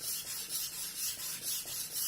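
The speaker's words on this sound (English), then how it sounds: "I have to change the angle a little bit to make sure the tip gets sharpened." A knife blade is honed on a SUEHIRO #200/#1000 combination whetstone in steady back-and-forth strokes, a soft rhythmic gritty rasp repeating about every half second, close and fairly quiet, no talk.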